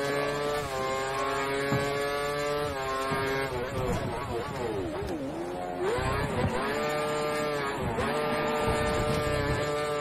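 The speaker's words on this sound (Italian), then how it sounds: "Pensiamo che la vettura alle tue spalle abbia impostato il motore sulla massima potenza." Formula 1 race car engine at full power in the F1 2013 racing game, a loud sustained high-pitched whine with rising and falling revs across gear changes, continuous throughout, with an overlaid voice speaking.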